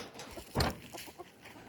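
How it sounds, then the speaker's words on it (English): Large backyard chickens cluck in short bursts, one loud nearby squawk standing out among softer scattered clucks. "The big chickens, let's kind of talk about them for a second."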